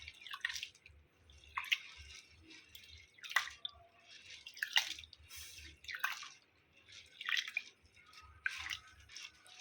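Urad dal lentils are rinsed by hand in water, heard as soft close sloshing and dripping splashes in irregular bursts, fairly quiet with no talk.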